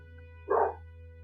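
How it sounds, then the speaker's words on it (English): A single dog bark rings out once in a home, short and fairly close, over a steady background hum. "My dog is barking."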